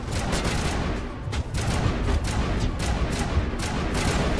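Sustained gunfire in the Mass Effect video game, dense overlapping shots and booms forming a continuous loud barrage with no talk.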